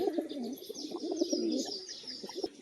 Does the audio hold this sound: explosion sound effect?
no